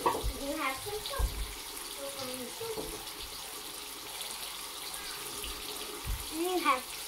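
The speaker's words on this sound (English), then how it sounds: "And then you rinse this out, the cup" Tap water runs and splashes while a cup is rinsed at a sink during soap making, a steady close gush with someone talking over it.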